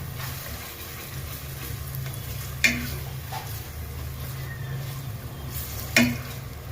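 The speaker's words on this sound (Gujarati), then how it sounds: "હળદર નાખ્યા પછી આવી રીતે તવિથાથી કન્ટિન્યુ હલાવતું રહેવાનું એટલે તળીએ છોટે નહીં" Grated fresh turmeric vegetable sizzles steadily in a pan as a spatula stirs it continuously, with two sharp clicks of the utensil against the pan.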